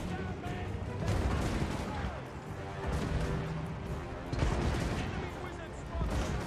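Cannon fire in Total War Warhammer 3 sounds as repeated booming shots and crashes over battle noise, with someone talking over the action.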